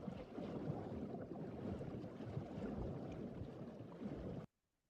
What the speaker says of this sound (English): We do have a layer with underwater recordings.